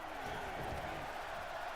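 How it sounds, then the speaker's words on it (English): Loud arena crowd noise from the WWE 2K24 wrestling video game, a steady roaring wash of fans with voices mixed in. "I have to talk over this loud crowd"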